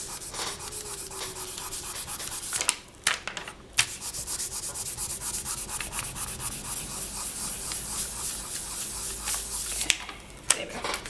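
Steady close-up rubbing and sanding strokes as a polymer clay heart donut in rose quartz style is burnished, a continuous scratchy friction with a few brief knocks and pauses, no talking.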